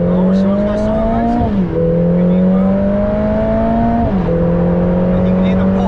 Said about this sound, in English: And you can hear the pop as the gear changes.